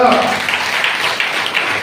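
An audience at a church service claps together, a dense, steady wash of applause that holds at an even level for about two seconds.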